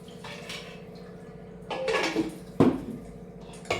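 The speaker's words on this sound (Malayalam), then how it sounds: "ജാറ് കഴുകുന്ന എപ്പോഴും ഇങ്ങനെ വെള്ളം ഒഴിച്ചിട്ട് ഇങ്ങനെ അടച്ചിട്ട് ഇങ്ങനെ കഴുകുമ്പോൾ" Mixer jar with water inside, lidded and shaken to wash it: quiet at first, then bursts of sloshing water and a sharp clunk against the jar, with a final knock.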